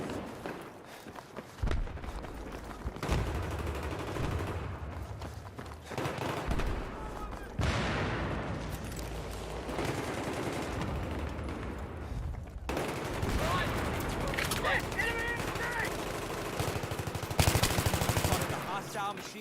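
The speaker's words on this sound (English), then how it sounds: "Hostile machine gunner in your AO." Machine gun fire rattles through a Battlefield 3 battle on PS3, sustained bursts and volleys over nearly twenty seconds alongside footsteps and other gunshots, with occasional voices beneath.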